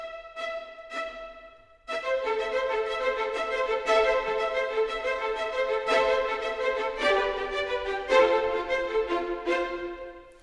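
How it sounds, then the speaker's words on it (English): A sampled first violin section plays spiccato in composition software, with short bouncing bowed notes in a brisk rhythmic run, opening with a few detached strokes before a fuller, sustained passage; no talking. "And the violin section 1 sounds like this."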